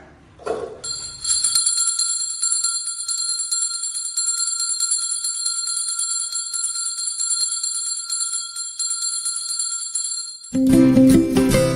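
A school bell rings continuously at a first-bell ceremony marking the start of the school year, a bright steady electric ringing lasting about ten seconds, loud and sustained alone before other sound cuts in.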